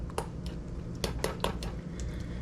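Tzatziki ingredients with dill being stirred together in a bowl, a run of close, sharp utensil clinks and scrapes against the dish over soft wet mixing, with no talking.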